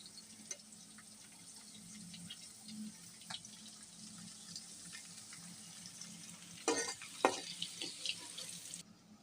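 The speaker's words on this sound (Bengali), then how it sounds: "এখন বেজে নেব মটরশুঁটির দানাগুলো" Green peas fry in a pan with a faint, steady crackle and sizzle, broken by a few light clinks and a brief louder burst of stirring or scraping near the end.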